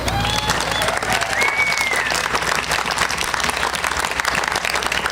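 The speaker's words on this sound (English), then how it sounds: "Let's give them a round of applause." A crowd applauds steadily at the opening of the Latino Heritage Mural at a Tri-Cities winery, a loud continuous roar of clapping with faint whistles rising above it.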